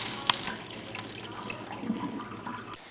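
Water runs from a tap, a steady splashing gush with a brief sharp clatter near the start, moderately loud and close, fading slightly toward the end, with no voices.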